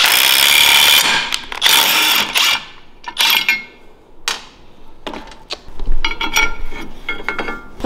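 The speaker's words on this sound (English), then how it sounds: "I'm putting my lug nuts on there backwards to draw it in" Lug nuts being spun and tightened onto brake studs for a cross kart buggy build, giving irregular metallic ratcheting and clinking bursts with short pauses between, close and fairly loud, no talking.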